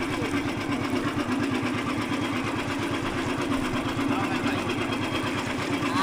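A boat engine on a rough sea with big waves runs in a steady, close, throbbing drone that holds without a break throughout.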